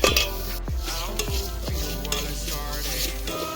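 Sugar being stirred into a small pot on a clay stove, with a steady sizzle under a few sharp scraping strokes of a utensil against the pot.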